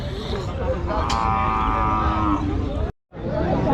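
Cattle low at a busy livestock market in Rajshahi, one long drawn-out moo rising over a steady hum of crowd chatter and bustle, then a brief drop to silence.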